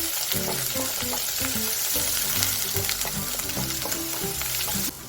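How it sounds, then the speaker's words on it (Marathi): Ground masala fries in oil for a Nagpur Savji patwadi rassa. A loud, close, crackling sizzle holds steady with some churning from stirring, then drops off sharply just before the end. "आपल्याला तेल शिपेपर्यंत हा मसाला फ्राय करून घ्यायचा आहे"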